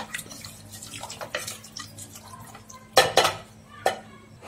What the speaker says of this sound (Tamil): மிக்சியில தண்ணி அலசி சேர்த்துக்கிடுங்க